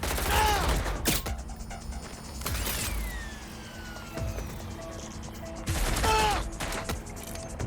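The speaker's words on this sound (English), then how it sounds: "Shooting!" Gunfire in the Watch Dogs: Legion video game: a loud burst of shots opens, followed by mechanical clatter and whooshes, then another heavy volley near the end over a constant game background.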